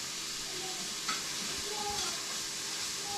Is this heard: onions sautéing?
yes